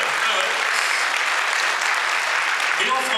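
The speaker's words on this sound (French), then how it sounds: "Allez-y, vous pouvez applaudir là." An audience applauds a Carmina Burana choral performance, a steady, dense wash of many hands clapping that holds evenly for a few seconds with faint voices mixed in.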